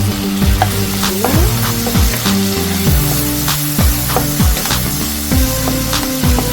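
Burdock root being stirred in a pan with reduced braising sauce and a half spoon of sesame oil, steady loud sizzling with repeated scraping strokes of a utensil against the pan, close and continuous, no voices.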